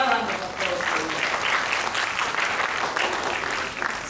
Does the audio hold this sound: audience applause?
yes